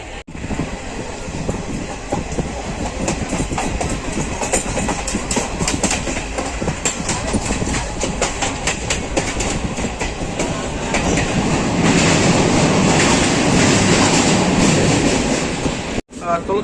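Uttarbanga Express leaving Sealdah and running on rails, a loud continuous rumble and clatter of wheels that swells toward the end, recorded from inside the train.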